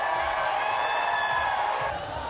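Bowling crowd at a PBA playoff semifinal cheering and whooping, a dense, loud sustained roar of many voices in the arena that tapers slightly at the end.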